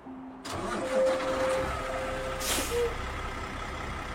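A semi-truck's engine cranks and starts, then settles into a steady mid-pitched idle, with a sharp hiss of the air brake releasing partway through, close and alone without talk.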